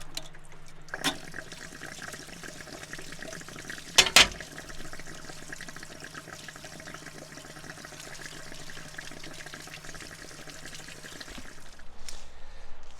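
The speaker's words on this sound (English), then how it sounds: "that is going to drain out our hot water tank. So that is draining" Water drains steadily from the hot water tank of a holiday trailer being winterized, a continuous close rushing and trickling that runs on with a brief loud clunk partway through.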